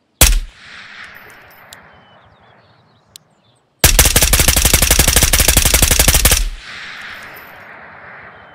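An M4 rifle chambered in 5.56 and loaded with a 30-round magazine fires on full auto in the video game Ghost of Tabor. A loud, rapid continuous burst lasts about two and a half seconds, preceded by a single sharp shot and then quiet.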